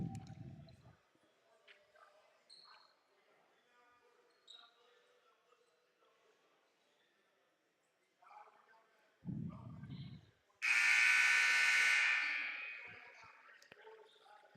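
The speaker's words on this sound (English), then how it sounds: "First buzzer sounds." A loud, sustained buzzer blares across a college men's basketball gym during a timeout, ringing for several seconds and slowly fading, with crowd murmur and a brief thump heard beforehand.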